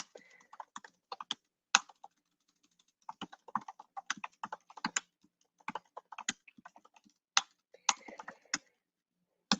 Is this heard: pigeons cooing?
no